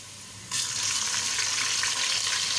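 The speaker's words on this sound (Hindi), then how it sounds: "इसको भी मैं फ्राई कर लूँगी।" Onion with garlic and ginger paste hits a hot pan and starts frying, a sudden loud sizzle that begins after a quiet half second and then holds steady and bright.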